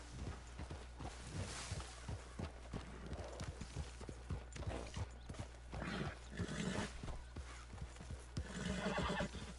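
A horse whinnies amid a steady clip-clop of hooves walking, with shuffling movement and occasional clanks nearby, in the video game Red Dead Redemption 2.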